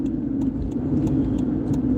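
A Holden Commodore car hums along steadily on the drive home, a continuous mid-pitched engine and road drone heard from inside the cabin, with faint light clicks and no talking.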